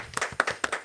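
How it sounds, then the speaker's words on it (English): A handful of sharp, separate hand claps from a tiny studio audience of about three people, close and uneven, lasting under a second. "Round of applause in three people."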